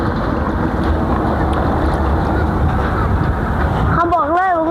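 Wind buffets the microphone outdoors in a loud, continuous rush for about four seconds, then eases as a wavering tonal sound briefly rises at the end.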